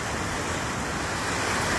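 Sea waves wash steadily onto the shore in a dense, even roar of surf, loud and close, with wind noise and no voices.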